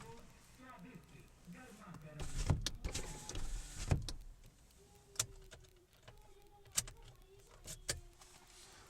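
A car's electric power window grinding down, a steady motor whine lasting a couple of seconds, followed by scattered clicks and knocks inside the quiet cabin.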